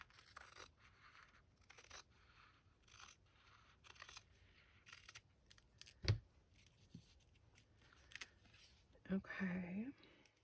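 Scissors snip through material for a journal cover in a series of short, crisp cuts spaced apart, close and quiet, with a soft clatter and rustle near the end.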